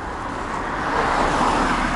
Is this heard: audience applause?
no